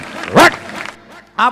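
A comedian imitates a dog barking during a comedy skit, giving two loud, separate bark-like yelps about a second apart, with no other talk.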